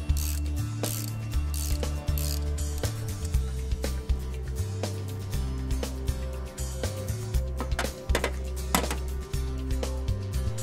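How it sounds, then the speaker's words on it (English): The fan of a Huck 918 Powerig hydraulic rig is turned slowly by hand, giving a steady run of close, faint mechanical ratcheting clicks and knocks with no talk. "Turn the fan by hand."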